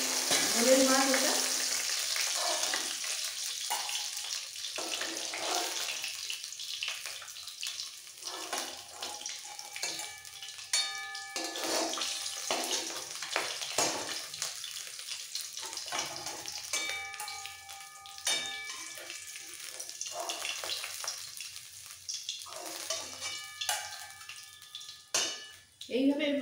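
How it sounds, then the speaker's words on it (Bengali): Vetki fish pieces frying in hot oil for a home-style curry, a loud close crackling sizzle that surges and spits unevenly throughout, with clinks of utensils and brief speech heard intermittently. "এইভাবে বাকি মাছগুলো ভেজে নিতে হবে"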